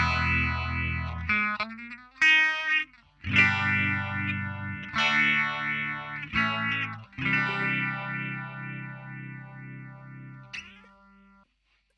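Sustained electric guitar notes and chords processed through a phaser pedal, swirling and shifting in tone, loud and alone.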